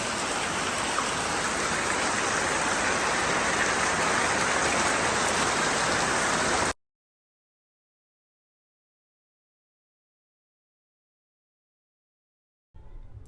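Steady, dense rainfall hisses evenly for several seconds, then cuts off abruptly to silence before a brief return of sound at the very end.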